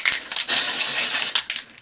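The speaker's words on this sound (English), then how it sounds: "And spray underneath as well." Dry shampoo sprays into the underside of lifted hair in a loud, close hiss lasting most of a second, framed by short aerosol bursts before and after.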